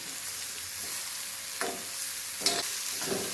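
Bitter gourd with onion, tomato and green chili frying in a pan, a soft steady sizzle with a few spatula scrapes and stirs, close and fairly quiet, no speech.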